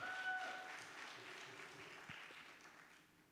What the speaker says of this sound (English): Let's hear one more round of applause for such a beautiful dance